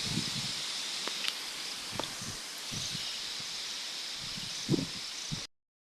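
Strong wind during Typhoon Kristine in 2024 rushes as a steady broadband hiss, with scattered rustles and brief knocks before it cuts off abruptly near the end.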